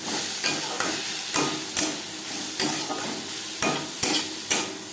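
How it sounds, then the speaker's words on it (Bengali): Spices stirred with salt and turmeric in a hot pan while making a spicy tomato curry of chela fish, a steady rhythm of scraping strokes with light sizzling beneath, close and moderately loud, no voices. "মশলার সাথে লবণ হলুদ বেশ ভালো করে মিক্স করে দেব"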